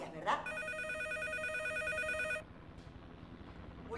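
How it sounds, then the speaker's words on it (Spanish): A telephone rings steadily in a television drama scene: a bright, buzzing electronic ring that holds for about two seconds, then cuts off, with voices and background sound around it. "así que dejas que ese teléfono se reviente"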